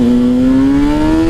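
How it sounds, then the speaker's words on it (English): A GSX-R engine-swapped motorcycle pulls hard in first gear, its loud engine note climbing steadily in pitch as it accelerates, close and continuous, with no talk. "First gear pull. Let's get the front wheel up again."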